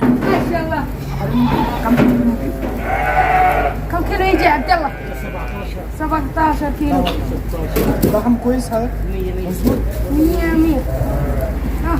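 Goats bleat repeatedly at a livestock market in Medina, several wavering calls rising over constant nearby conversation and crowd noise.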